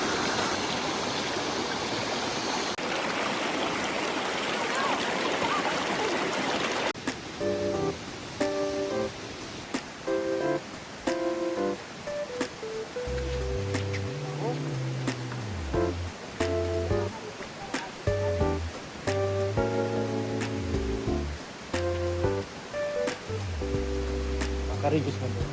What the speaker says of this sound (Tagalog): Nakakatuwang pakinggan yung agasas ng tubig, ano?